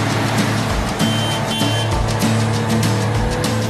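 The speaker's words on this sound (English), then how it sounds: "This semi-tractor trailer truck." A Mercedes Actros semi-tractor trailer truck drives close by, its engine a steady, loud drone with shifting tonal hums and brief surges as it passes.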